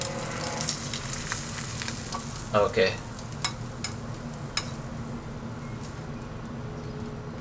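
Steady sizzling and crackling of an egg frying in a pan, with a few sharp clicks and a short spoken word partway through.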